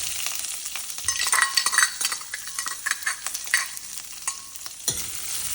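Onion, a green chili and curry leaves fry in a pan for Andhra-style ridge gourd dal, a steady close sizzle with busy stirring and scraping that swells in the middle and then eases off, no voices.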